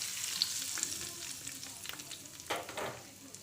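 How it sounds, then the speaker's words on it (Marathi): Hot tempering is poured into a cucumber and yogurt raita and sizzles steadily up close, with a few sharp crackles and a brief louder hiss near the end. "आता जो आपण तडका रेडी केलेला आहे तो यामध्ये जे आपण मिश्रण केलं होतं काकडी आणि दह्याचं, त्यामध्ये टाकून घेऊया"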